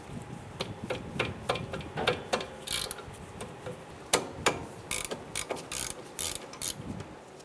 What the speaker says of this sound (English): We're going to use our socket and ratchet.